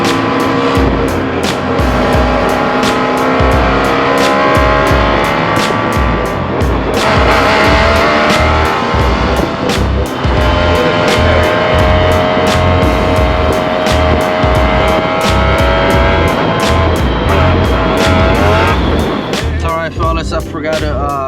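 A Mazda RX4 drives along with a loud, continuous engine drone, steady throughout and overlaid with faint repeated clicks and road noise.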